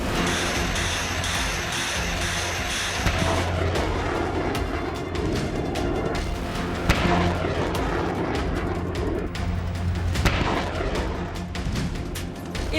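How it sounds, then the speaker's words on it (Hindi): Rumbling military din of roaring artillery guns, warships and fighter jets, a dense continuous wall of booms and engine roar, loud and sustained, with sharper blasts standing out now and then. "आसमान काटते फाइटर जेट और रात के अंधेरे में गर्जना करती तोपें"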